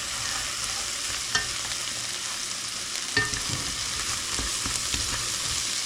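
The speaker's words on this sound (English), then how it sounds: "So you want to add in your tomato once your garlic release its aroma." Steady frying sizzle from minced garlic in a hot pan as canned diced tomatoes go in, a constant hiss with a few soft stirring clacks, alone without voices.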